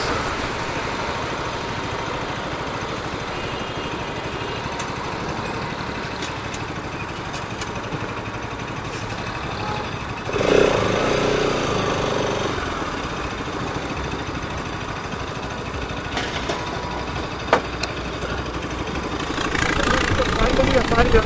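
Motorcycles idle and rumble steadily at the start of a group ride in Patiala, with the engine sound swelling briefly midway. People talk over the continuous drone.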